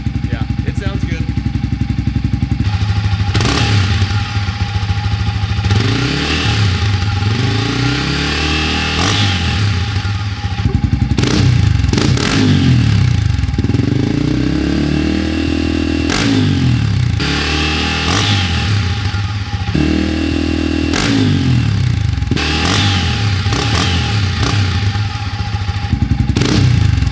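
Honda CRF250F dirt bike fitted with a Tuscany Racing aftermarket exhaust, revving loudly and repeatedly up to the limiter with a punchy, rasping note that rises and falls throughout, close and continuous.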